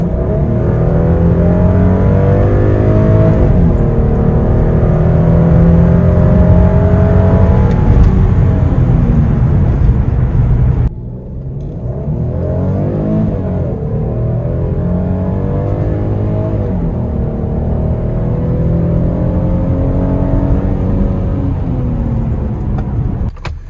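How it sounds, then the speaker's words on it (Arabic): Porsche Cayenne engine pulling hard on a test drive with a low fuel high-pressure fault (P0087), a loud, steady roar that climbs in pitch, breaks briefly at a gear change, then builds again, close and continuous throughout. "هنبدا بقى نجرب ندوس بالعربيه ونشوف"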